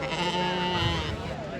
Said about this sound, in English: So it's quite a nice bunch of sheep here.